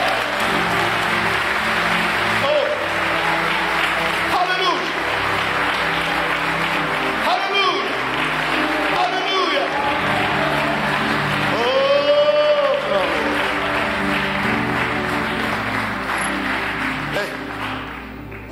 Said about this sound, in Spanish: Alguien denle un aplauso fuerte a Jesús.